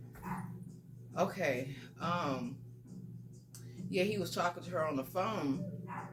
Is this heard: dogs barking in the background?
yes